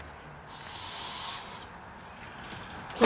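A young barred owl gives one high, hissing screech lasting about a second, fairly close, with quiet outdoor ambience after it and a faint second call near the end.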